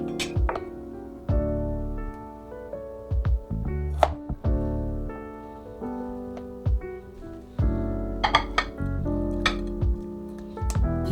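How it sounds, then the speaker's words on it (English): Knife cutting peeled fresh ginger into slices on a cutting board, a run of sharp, loud chopping thunks at an uneven rhythm, close and alone. "take your fresh ginger, peel it, cut it into 4 slices, and 1 additional small peeled nub"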